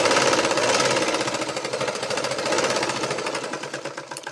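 A sewing machine stitches a blouse in a rapid, steady mechanical chatter, loud and close, easing slightly toward the end with no speech over it.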